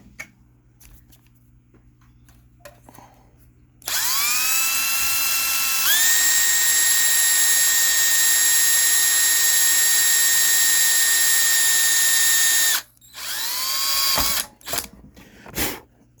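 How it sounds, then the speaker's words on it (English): An electric drill whines loudly and steadily for about nine seconds while drilling metal on a Predator 212 engine, its pitch stepping up once, followed by a few short bursts as it stops and restarts. "Let's drill that out too."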